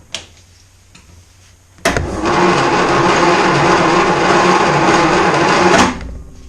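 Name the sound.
Austin Healey 100/4 starter motor cranking engine, plugs out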